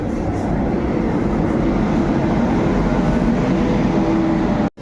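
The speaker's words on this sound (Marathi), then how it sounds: "ट्रेन आली दाखव, ट्रेन आली, एक्सप्रेस." Express train pulls into a station with a loud, steady rumble of wheels and carriages rolling close by, continuous throughout and cut off abruptly at the end, no talking.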